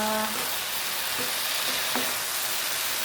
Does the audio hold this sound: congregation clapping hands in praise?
no